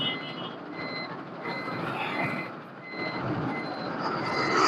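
A loaded goods truck rolls into a company yard in Gujarat, its reversing alarm beeping in steady repeated pulses over the low engine rumble, with no talk.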